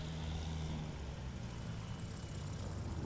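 A STOL aircraft with flaps down on short final approach at a championship event gives a steady, moderately loud propeller drone that carries through the whole moment with a faint rising whine above it.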